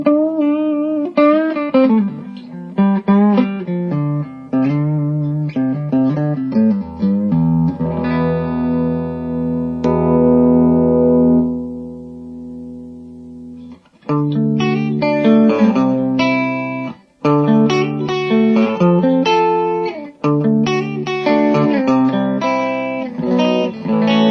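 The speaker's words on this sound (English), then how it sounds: "Here's the reverb." Electric guitar played through a Bugera G20 tube amp head with reverb switched on: chords and short picked phrases with a washy tail, one long sustained chord ringing out midway, then more strummed passages, close and without talk.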